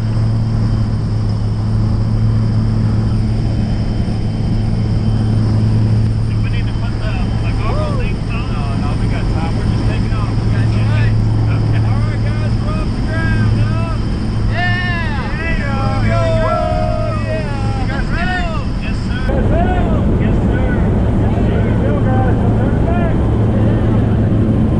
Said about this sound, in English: Hey, here, plane's on the way.